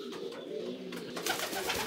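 Racing pigeons coo softly in a loft, a low steady murmuring with a rustle of movement and faint background noise, no one talking.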